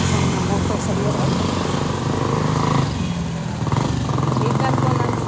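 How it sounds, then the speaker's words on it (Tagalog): Motorcycles running through a busy market in Lapu-Lapu, engines droning and idling steadily amid crowd noise, with people talking throughout. "Saba sa mga motor sa loob."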